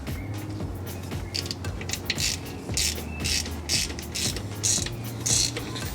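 A ratchet tightens the oil drain plug on a 2015+ S550 Ford Mustang 2.3L EcoBoost, giving close, rapid bursts of metallic clicking in repeated strokes with brief pauses between them.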